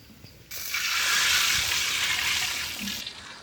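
Water poured into a pot of cracked wheat, a steady broad rushing splash lasting about two and a half seconds, close and moderately loud, starting abruptly and tapering off.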